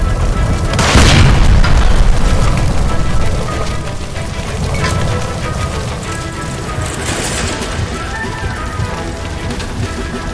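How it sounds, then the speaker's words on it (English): Gas line exploding in the video game L.A. Noire, a loud heavy boom followed by a long roaring, crackling rumble that slowly fades, with no speech. "Shoot the gas line, Cole, we're out of here!"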